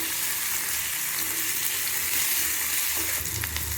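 Onions sauté in a pan for street-style chutney with a continuous, fairly loud hissing sizzle that stays even throughout, and no voices over it.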